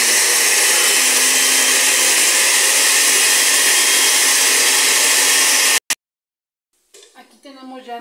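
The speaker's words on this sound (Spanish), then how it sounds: "Aquí en la licuadora puse 4 chiles guajillos, un ajo y un poquito de cebolla" A blender blending guajillo chiles, garlic and onion runs loud and steady with a dense whirring roar, then cuts off abruptly; a brief pause follows before a voice begins speaking.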